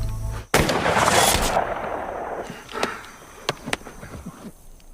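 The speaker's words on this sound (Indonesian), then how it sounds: "menghabisi Tanner dengan satu tembakan di kepala" A sharp gunshot-like blast rings out, followed by a rumbling echo and a few scattered sharper cracks fading in the distance.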